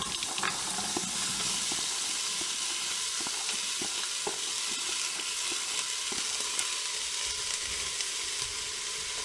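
Butter and finely diced onions sauté in a pot, giving a steady, even sizzle and crackle throughout with occasional small pops, fairly quiet and with no talking.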